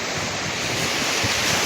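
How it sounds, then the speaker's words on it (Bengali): Sea waves roar at Cox's Bazar beach in the morning, a dense, constant surf rumble mixed with wind buffeting the microphone. "সমুদ্রের গর্জন"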